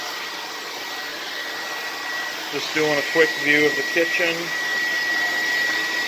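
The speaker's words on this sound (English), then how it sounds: "I don't like the vacuum cleaner" A vintage 1970s Air Way Sanitizor Mark V vacuum cleaner runs indoors near a kitchen with a steady whining hum and a thin high whistle. A person talks briefly over it partway through.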